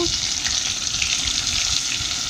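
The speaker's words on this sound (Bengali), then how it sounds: "তো এই দেখো টমেটো কুচিগুলো দিয়ে দিল।" Chopped tomatoes hit hot oil in a curry pan, giving a loud, steady close-up sizzle and crackle of frying that runs unbroken throughout.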